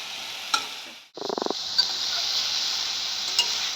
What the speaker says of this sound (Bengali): থোড়ের সঙ্গে চাল কুমড়ো পাতাটা দিয়ে নাড়াচাড়া একটু করলেই